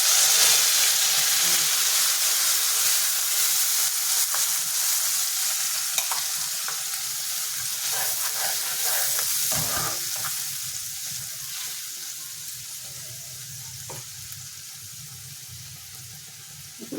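A coriander and green chilli paste fries with curry leaves in a pan, producing a steady close sizzle with stirring scrapes that slowly fades a little toward the end.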